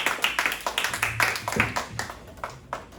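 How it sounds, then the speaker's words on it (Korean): Fairly close, slightly uneven rhythmic clapping from a youth congregation at a Sunday church service, about four claps per second, with faint voices underneath. "네, 박수해 주세요."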